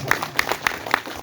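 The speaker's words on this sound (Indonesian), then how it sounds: "Tepuk tangan buaran." Short run of rhythmic hand claps from the audience at an evening dhikr and manaqib religious gathering in Kali Asin village, about five crisp evenly spaced claps close by with no talk over them.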